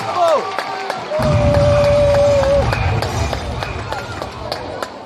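Applause from a school cultural day audience, a broad crowd clatter rising suddenly after a short pause and holding steady to the end, with a voice and some cheering carried on top.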